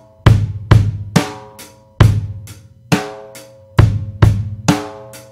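A drum kit plays a rock beat with kick drums and snare backbeats, including an extra kick, in a loud, steady repeating groove with no voices.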